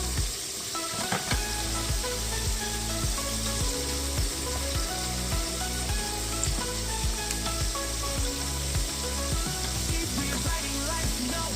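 Floured fish pieces for Jamaican escovitch drop into hot oil, and a loud, steady sizzle of frying runs continuously, with faint clinks and bubbling close by.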